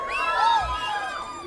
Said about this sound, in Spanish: A ver el grito de las mujeres.